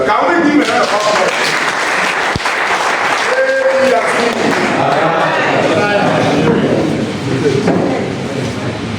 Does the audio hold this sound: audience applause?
yes